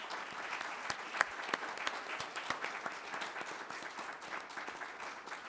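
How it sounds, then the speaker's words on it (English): Steady, dense applause from an audience at a college board of trustees meeting, continuous clapping at moderate distance with no pauses. "So I think they deserve a round of applause."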